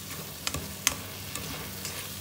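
Sautéed tomato stirred in a pan gives a continuous soft sizzle, broken by a few sharp clicks and scrapes of a utensil against the pan at irregular intervals, close by and without speech.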